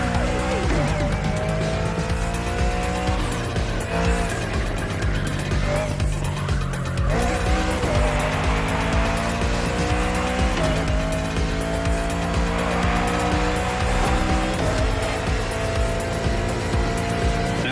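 A Bugatti Bolide race car on slick tires corners hard in The Crew Motorfest, its engine revving up and down through gear changes with repeated tire squeals, loud and continuous.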